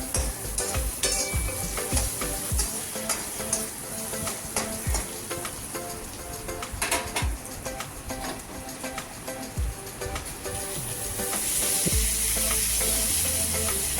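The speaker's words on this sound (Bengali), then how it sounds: "আবার একটুখানি নাড়িয়ে নিচ্ছি জিনিসটা" Drumstick leaves frying with salt and turmeric in a pan, a loud continuous sizzle with frequent scraping stirs, getting louder and hissier toward the end.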